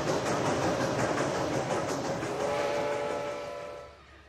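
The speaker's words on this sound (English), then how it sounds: "I hear a train." A train rumbles past with a sustained roar of rail cars and a drawn-out whistle-like tone, loud and close, fading out toward the end.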